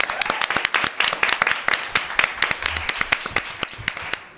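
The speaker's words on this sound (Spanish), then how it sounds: "Muchas gracias, un aplauso también" Live studio audience clapping for a Spanish comedy show's guest introduction, a steady patter of sharp claps throughout, moderately loud and close, with no talk over it.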